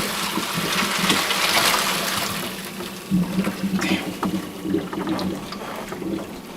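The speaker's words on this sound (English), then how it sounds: "And now we are going to dump the water." Water being dumped from a pot into a kitchen sink while making beef stroganoff, a broad close splashing gush that runs steadily, then breaks into uneven sloshes and pours toward the end.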